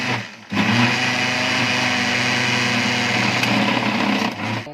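An electric grinder whirs loudly and steadily as it grinds tamarind chutney, starting abruptly after a brief pause and running continuously at a high, even pitch.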